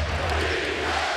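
At a Celtics basketball game, an arena crowd roars in a dense, sustained swell during a tight finish.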